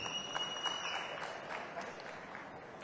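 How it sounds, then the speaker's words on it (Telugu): Audience applause at the Gaami pre-release film event, a steady wash of clapping from a crowd, fairly distant and moderate in level, with no clear speech over it. "so big round of applause for Chandy"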